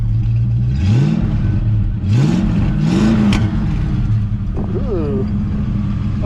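A 1969 Ford Mustang engine is revved in three quick rising blips over a rumbling idle, followed by a short falling rev, close and loud with a voice speaking over it.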